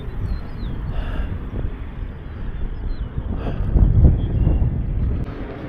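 Strong wind buffets the microphone in a steady broadband roar on Harrier Lake in Illinois, with water movement beneath and a louder gust swelling near the end; no one speaks.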